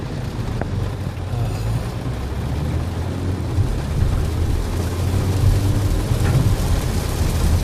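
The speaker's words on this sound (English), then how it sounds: "Like hurricane rain," Heavy, steady rain pours during a thunderstorm in Minnesota with little wind, forming a dense, constant roar with low rumbling underneath that never lets up.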